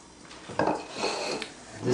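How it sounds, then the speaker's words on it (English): Kitchen tools being scraped down after oats are mixed into whole grain flatbread dough, giving a few close, soft scraping and rubbing strokes with light clinks, quiet and without talk. "scrape down my tools."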